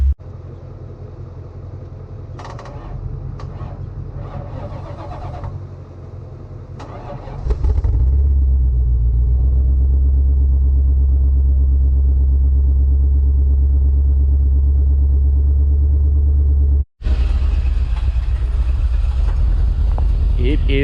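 A $300 Corvette engine cranks and catches, then settles into a loud, steady, deep idle rumble that holds for several seconds, briefly cuts out and resumes; quieter indoor sounds and shuffling come before it starts.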